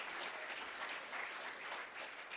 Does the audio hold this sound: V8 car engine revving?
no